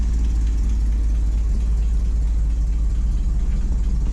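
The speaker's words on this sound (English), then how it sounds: "Seems to be idling all right." Engine of a Ford F700 salt spreader truck with an exhaust leak idling steadily, a loud deep rumble close by with a constant throbbing low end and no talking.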